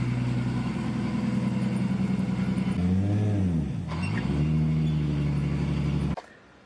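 A lowered car's engine idles with a steady low rumble, briefly dips and revs as it is driven up onto blocks, then cuts off abruptly near the end.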